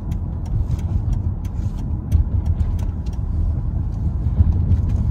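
Mercedes-Benz W221 S550 rolling over a bumpy, heavily patched road, a steady low cabin rumble punctuated by repeated sharp thumps and clunks from the suspension as it hits the patches.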